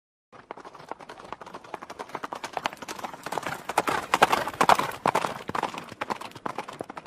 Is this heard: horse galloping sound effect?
yes